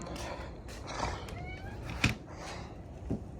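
A pet cat gives a couple of short, close meows in a quiet room, with a person's voice murmuring briefly in the background.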